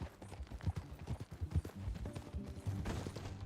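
Horse hooves clip-clop in Red Dead Redemption 2 as riders move along together, a steady run of hoof beats at middle distance with game sounds mixed in.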